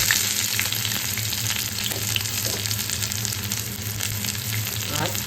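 Chopped onion goes into hot oil alongside already-fried dried red chillies, giving a steady close sizzle and crackle with faint stirring scrapes throughout, no voices.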